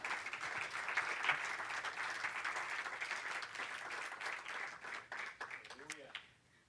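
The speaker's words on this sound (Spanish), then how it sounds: "Dele palmas al Señor, hermano." A church congregation claps for the Lord, filling the room with sustained mixed applause at a moderate, distant level before it tapers off, with a voice heard near the end.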